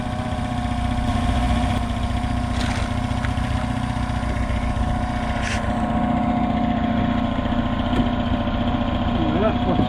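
A freshly installed replacement car engine runs steadily on its first start, a constant close idle drone throughout, with some background noise over it.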